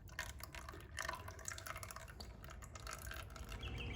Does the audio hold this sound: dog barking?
no